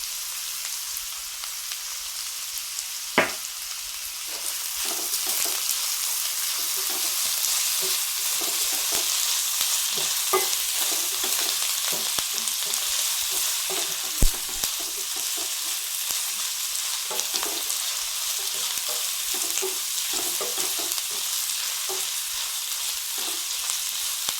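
Onions sautéing in a pan for a garlic kurma give a steady, loud, continuous sizzle and crackle throughout, with an occasional sharp clink of a utensil.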